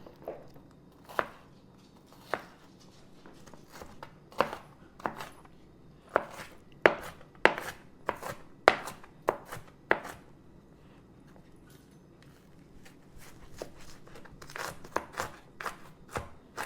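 A knife dices onion on a cutting board in irregular crisp taps, sparse at first and then quickening in clusters before slowing again, fairly quiet and close.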